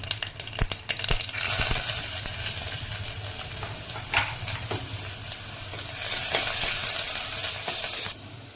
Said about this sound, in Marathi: त्याच्यामध्ये आता जिरं मोहरी घालून घेते कांदा घालून घेते